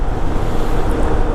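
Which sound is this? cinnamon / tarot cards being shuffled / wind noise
wind noise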